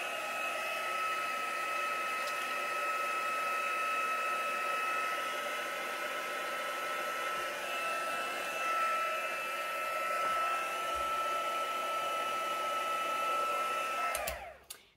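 A hair dryer blows steadily on wet acrylic paint on a canvas, a loud, continuous whirring hiss that runs unbroken for nearly the whole stretch before clicking off abruptly at the end.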